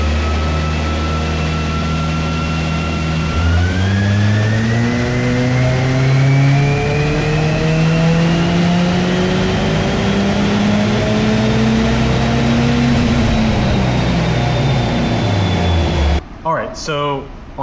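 On a dyno run on E37 fuel at 12 pounds of boost, a car engine climbs steadily in pitch for a long, loud pull, with turbo whine rising above it, before cutting off sharply near the end.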